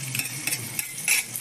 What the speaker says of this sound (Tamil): இதை முட்டையோட மிக்சிங்கும் இதில் ஊற்றிட்டு இந்த பாஸ்தாவையும் சேர்த்து இதில் நம்ம மிக்ஸ் பண்ணியிருப்போம்.